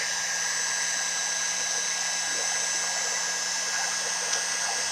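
A hair dryer blows steadily on the temperature sensor of a smart heater, a continuous loud broadband whoosh with a faint hum underneath, holding unchanged throughout with no talking.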